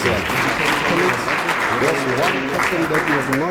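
Seminar audience applauding a guest at an education and training forum, continuous dense clapping from a crowd, loud and sustained, with voices talking and calling out over it throughout.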